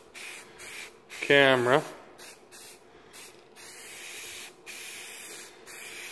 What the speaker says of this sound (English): I just kind of use the rattle cans on the not so important pieces like the fuel tank